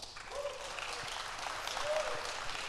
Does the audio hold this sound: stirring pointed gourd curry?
no